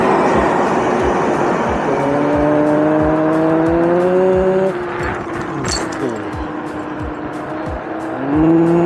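A high electric motor whine from a dual-motor electric scooter climbs in pitch as it speeds up, with ticking and road noise, close and loud.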